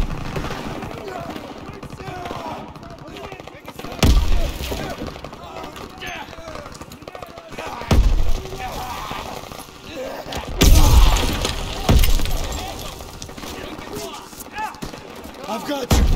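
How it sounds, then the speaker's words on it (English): Bursts of rapid gunfire erupt several times amid a chaotic, noisy battle scene in Call of Duty: WWII, with sharp cracks and shattering impacts over continuous background din. "We gotta keep moving. Gunfire this way!"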